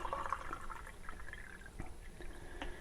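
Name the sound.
water being poured into a container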